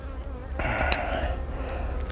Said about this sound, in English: They've got plenty of bees